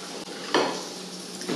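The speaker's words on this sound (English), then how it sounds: "you can still hear my chicken sizzling" Chicken sizzling in a hot pan in a home kitchen, a steady soft hiss with a couple of light clinks of utensils against the pan, close and fairly quiet, with no talking.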